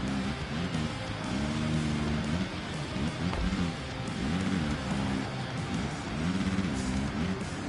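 KTM dirt bike engine in a Supercross racing game, droning steadily with rising and falling revs throughout, loud and continuous with no talk.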